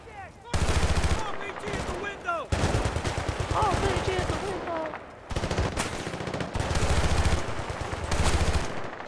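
Repeated gunfire bursts from Battlefield: Bad Company 2, shotgun and automatic weapons in close combat, loud and sustained in several volleys with brief gaps.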